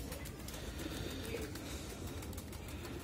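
Rooftop flying pigeons in a loft give faint, soft cooing and rustling against a quiet, steady background.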